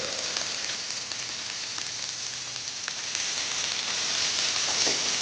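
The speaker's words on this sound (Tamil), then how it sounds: "இந்த வெங்காயம் நல்லா வதங்கி வரட்டும்" Chopped onions sizzle steadily in hot frying oil for a potato and curry leaf stir-fry, a close, even crackling hiss with no voices.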